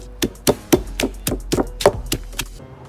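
Chilies being pounded in a mortar and pestle for Thai curry: about ten sharp, evenly spaced thuds in a steady rhythm, close and clear, with no talking over them.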